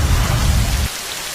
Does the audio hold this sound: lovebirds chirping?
no